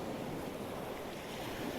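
Sea waves surging against a wall in winter weather, a steady broadband wash of surf mixed with wind buffeting the microphone, continuous and fairly loud throughout with no distinct single break.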